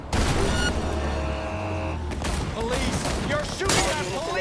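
Gunfire in the video game Cyberpunk 2077 after a car collision, a dense continuous barrage of shots and impacts with engine and crash noise mixed in, loud throughout and no talk.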